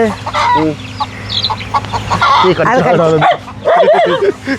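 Hens cluck and chicks cheep in short bursts close by, with people talking over them and a low background hum.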